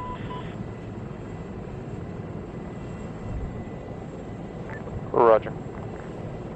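Steady, loud roar of military aircraft engines during an amphibious commando exercise, continuous throughout, with a brief radio voice cutting in near the end.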